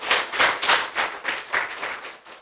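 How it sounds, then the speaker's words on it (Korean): Applause from an audience at a special lecture event, a short burst of rhythmic, fairly even hand clapping heard at moderate distance that fades slightly toward the end. "큰 박수를 한번 올려주시기 바랍니다"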